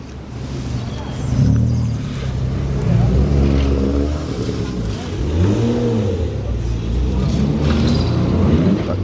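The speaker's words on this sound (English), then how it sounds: "That definitely has a modified exhaust on it, because that sounds hella loud." A Porsche Cayman with a loud modified exhaust revs at a car meet, its engine note rising and falling in repeated loud surges over outdoor background noise.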